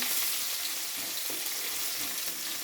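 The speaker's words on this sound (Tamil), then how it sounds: "கட் பண்ணி வச்சுருக்க வெங்காயத்தை போட்டுக்கலாம். போட்டுட்டு நல்லா ஃப்ரை பண்ணிக்கலாம்." Steady, close sizzling of chopped onions and cumin frying in hot oil, a continuous hiss with faint stirring scrapes throughout.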